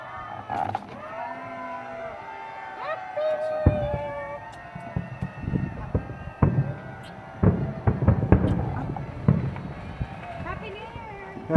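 New Year's Eve fireworks in Maui, Hawaii, heard as scattered sharp bangs and crackles, some near and some distant, under whistling, cheering and voices of people talking.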